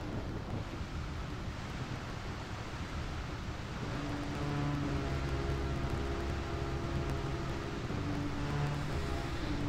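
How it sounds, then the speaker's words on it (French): Deep, steady earthquake rumble from the Paper Mario video game, a continuous low roar that swells slightly partway through and holds loud and unbroken to the end, with no voices. "Tremblement de terre."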